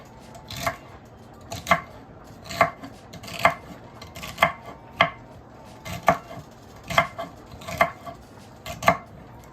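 Celery being chopped on a cutting board, about eleven crisp, evenly spaced knife strokes landing close and clear with a faint kitchen hum in between and no talking.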